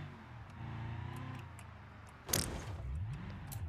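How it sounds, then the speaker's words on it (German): A car's engine hums steadily in the driving game BeamNG.drive, with a sharp clunk or impact midway, after which the engine note rises and falls. "Genau, wir fahren jetzt mit dem Auto."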